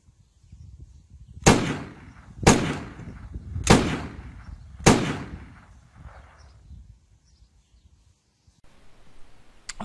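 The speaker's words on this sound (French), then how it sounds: "Je vais vous expliquer comment faire un espèce de coup de feu réaliste." A realistic gunshot sound effect fires four sharp, loud bangs roughly a second apart, each with a short decaying echo, followed by quiet and faint rustling.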